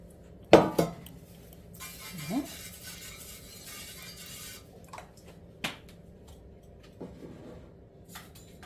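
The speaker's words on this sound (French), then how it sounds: "je vais donc mettre un spray de démoulage dans mon moule" Release spray hisses into a cake mould for gluten-free orange gingerbread in one soft burst of about two and a half seconds, framed by close clanks of the metal pan and utensils set down on a counter.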